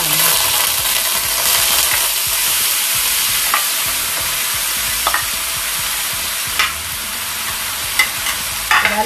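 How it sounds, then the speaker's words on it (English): Minced beef sizzles steadily in a hot pan, a continuous loud frying hiss with a few light clicks and scrapes as the meat is spread out piece by piece. "the pan is hot. So what I'm going to do is to distribute the meat in there"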